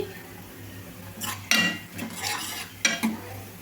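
Spoon stirring frying onions in a metal pan, a few clanks and scrapes against the pan over a faint sizzle, close and otherwise quiet.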